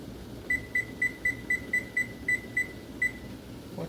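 Kitchen timer being set while canning tomato sauce, about ten quick, high electronic beeps at a steady rhythm, clear and close in a quiet room.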